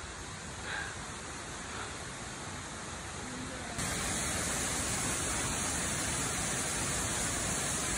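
Waterfall on a deserted hiking trail near Taki-Jinja Shrine: a steady, broadband rush of falling water throughout that grows noticeably louder and closer partway through, with no one speaking.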